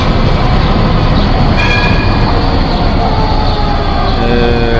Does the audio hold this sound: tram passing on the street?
yes